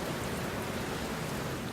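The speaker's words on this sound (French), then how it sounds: "Mais là, il pleut vraiment." Heavy rain pours down at an outdoor festival, a dense and steady hiss with no break for the whole short stretch.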